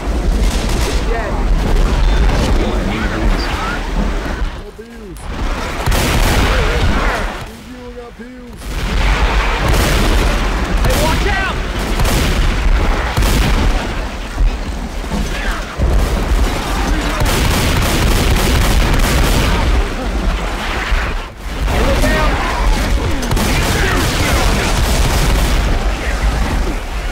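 Explosions and gunfire in the Left 4 Dead 2 zombie video game, a dense, loud barrage of booms and shots with brief lulls, mixed with character voices.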